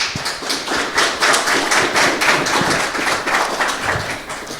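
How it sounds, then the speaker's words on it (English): Audience applauding panelists at the close of an internship preparation panel, a dense, steady patter of clapping hands that continues throughout and tapers slightly at the end. "Can we give a round of applause to our panelists?"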